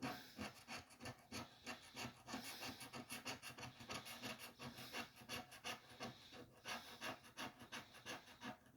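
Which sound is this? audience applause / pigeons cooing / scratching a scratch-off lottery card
scratching a scratch-off lottery card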